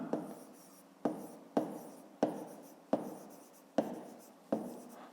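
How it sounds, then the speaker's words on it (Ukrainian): Pen writing on paper for a fifth-grade maths exercise, a series of about seven sharp strokes each starting with a tap and trailing into a short scratchy scribble, close and quiet with no voices. "Так, записуємо це."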